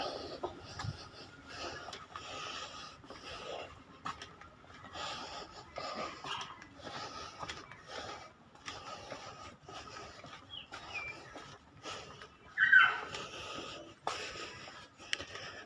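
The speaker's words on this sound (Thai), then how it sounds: "เสียงหายใจตอนนี้ดังกว่าเสียงฝีเท้าแล้ว" Heavy, laboured breathing comes from someone walking a long way beside a canal while wearing a face mask and head cover. The breaths come as a rapid, close, panting rhythm over faint ambient noise, with occasional brief rustles.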